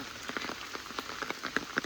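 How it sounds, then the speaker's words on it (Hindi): Heavy rain pouring steadily onto surfaces at a homestay near Corbett, a dense hiss scattered with distinct close drips and patters, moderately quiet, with no talking. "बारिश हो रही है बहुत तेज"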